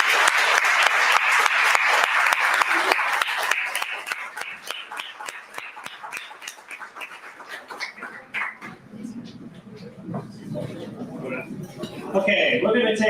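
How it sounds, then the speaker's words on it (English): An audience at a Nerd Nite Okinawa talk night gives a loud, dense round of applause that thins into scattered claps and fades, followed by murmuring crowd chatter and voices near the end. "Everyone, give Fakhra a wonderful round of applause for this beautiful insight."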